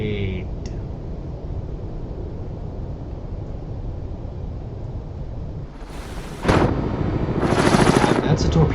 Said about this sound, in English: That's a torpedo.